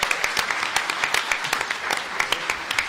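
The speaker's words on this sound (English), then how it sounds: "So a grand applause for Angela." An audience claps at a community aldermanic forum in South Chicago, a steady patter of distinct hand claps, moderately loud, sustained for a few seconds without talk.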